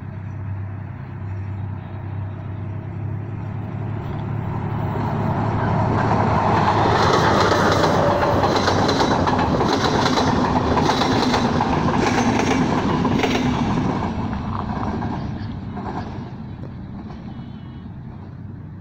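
An express passenger train, the 3.30 service, passes through Alsóörs station on the shore of Lake Balaton, swelling from a distant rumble into a loud, close roar with clattering wheels, then fading away over almost twenty seconds.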